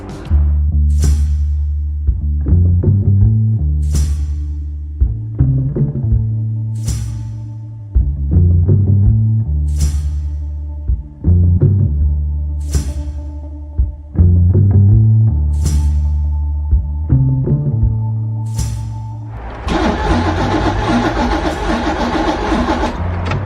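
A car engine that has a fuel delivery fault cranks repeatedly without catching. There are about five cranking bursts with brief pauses between them, followed by a steadier, noisier stretch at the end. Nobody speaks.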